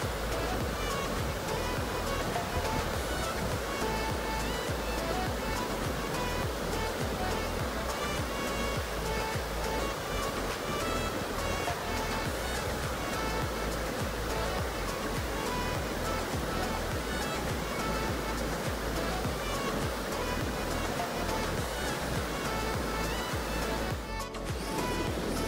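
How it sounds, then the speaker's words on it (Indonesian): Fast-flowing river water rushes over large boulders at Aek Situmandi near Hutabarat, Tarutung, a loud, unbroken roar of whitewater holding steady throughout. "Kita bisa melihat hamparan batu-batuan yang berukuran besar yang diselingi dengan arus air sungai yang mengalir sangat deras."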